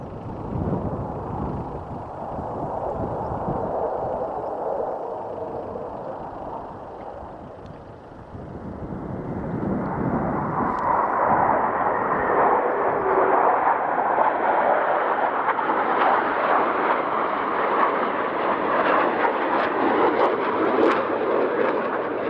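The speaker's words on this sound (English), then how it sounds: "We're about to see that demonstrated by means of simultaneous aileron rolls." T-50 jet trainers performing simultaneous aileron rolls at an airshow, a loud, sustained jet roar heard from a distance that dips briefly and then swells as the jets pass, mixed with wind noise.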